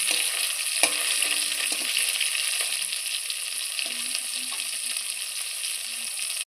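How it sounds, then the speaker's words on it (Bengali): Snakehead fish, also called latha fish, frying in hot oil with a steady, close hiss, broken by a few clicks and knocks as the pieces are turned over. "এবার আমি মাছগুলো ভালোভাবে উল্টে পাল্টে ভেজে নিচ্ছি"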